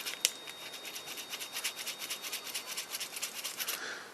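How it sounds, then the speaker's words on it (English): Scraping, rasping strokes of a reaming tool cleaning out a hole in a Briggs & Stratton small-engine part, a quick steady back-and-forth rubbing rhythm repeated for about four seconds, close and fairly loud with no talking. "just kind of, I don't know, lack of a better term, ream it. Just really get it clean in there."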